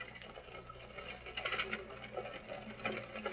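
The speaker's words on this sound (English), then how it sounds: "What's that carriage driving up in front of the house?" Faint clopping and rolling of a horse-drawn carriage, a hearse, pulling up outside a house at night in an old radio drama, a muffled, steady patter of hooves and wheels at low level.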